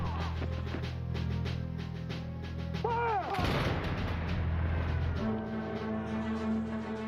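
Battle sound effect of Revolutionary War gunfire and artillery, with sharp shots and heavy booms crashing over a low rumble and background clatter, fairly distant and subdued, with a sudden louder burst midway.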